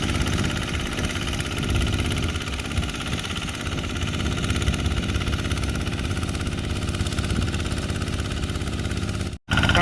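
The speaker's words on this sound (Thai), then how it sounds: "วันนี้ก็พามาดูรถไถเดินตามปั่น ปั่นแห้งครับ" An RT140 walking tractor engine runs steadily while rotary tilling a dry field of an old bamboo plot, a loud continuous rattling drone close by that cuts off abruptly for an instant near the end.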